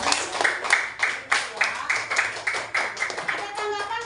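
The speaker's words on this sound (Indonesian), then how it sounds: "Iya, kasih tepuk tangan dong." A small group in a room claps in a rhythmic, evenly spaced pattern of sharp individual claps, with a voice speaking briefly near the end.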